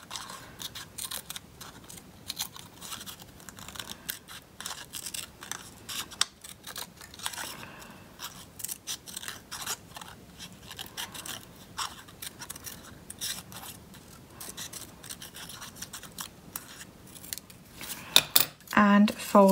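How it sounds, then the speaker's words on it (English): Scissors snip through a cardboard toilet paper roll in a steady run of quick, close cuts, with a louder burst of handling near the end. "Cut out 2 little wings."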